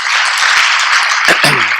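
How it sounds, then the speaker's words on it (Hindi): An audience at a talk on health, wealth and happiness bursts into loud, dense applause. The clapping is sustained and close, and a brief voice-like sound appears near the end. "जोर से ताली बजाइए"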